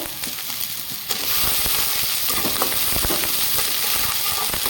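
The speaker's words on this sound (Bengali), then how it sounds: "পেঁয়াজটাকে আমি হালকা ভেজে নেব" Chopped onion fries lightly in a pan for a vegetable soup, a dense sizzle that swells louder after the first second and carries scattered stirring taps, with no talking.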